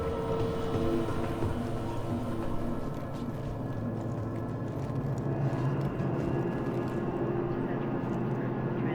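Lorville metro train in Star Citizen, a continuous loud rumbling ride with a steady low drone and rattling, some faint clicks near the end.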